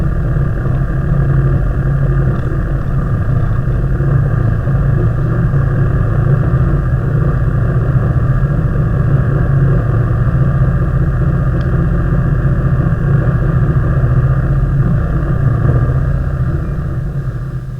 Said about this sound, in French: nous revoilà repartis debout sur notre moto